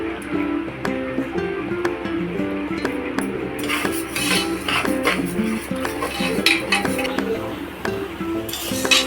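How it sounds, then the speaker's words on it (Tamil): Moong dal roasting in ghee in a pan, with a utensil stirring it: repeated metallic clinks and scrapes against the pan over a faint sizzle, close up. "கொஞ்சமாக நெய் சேர்த்து வறுத்து எடுத்துக்கலாம்"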